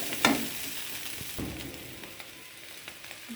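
Chowmein noodles are stirred in a frying pan with a little oil, a soft, fairly faint sizzle beneath a few quick scraping strokes of the utensil, with no speech.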